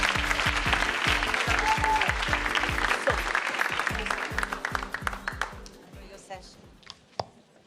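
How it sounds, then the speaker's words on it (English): Loud crowd applause with rhythmic music underneath, the clapping fading away toward the end as a few scattered claps remain. "A big round of applause for Meera."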